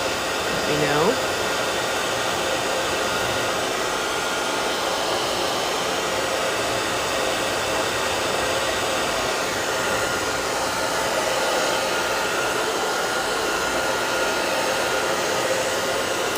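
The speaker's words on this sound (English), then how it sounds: "We can just sit here and listen to the hairdryer." A hair dryer blows steadily at close range, a constant loud whooshing roar that continues without a break.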